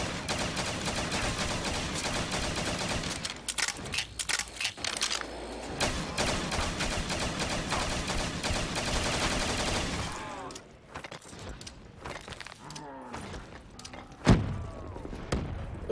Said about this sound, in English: First gun it gives me is a pack-a-punch striker from Modern Warfare 2.